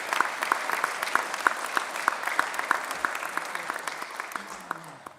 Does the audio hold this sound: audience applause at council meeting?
yes